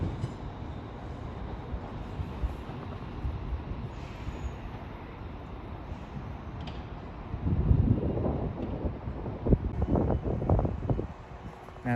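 An Avanti West Coast train, running London Euston to Liverpool Lime Street on the West Coast Main Line, moves through Crewe station with a steady rumbling roar and wind noise, growing louder and rattling near the end.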